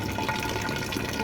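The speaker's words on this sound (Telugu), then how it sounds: "మట్టి కుండలో వాటర్ పడుతుంది" Water pours steadily into a clay pot from a filter, making a continuous close rushing trickle with no pauses.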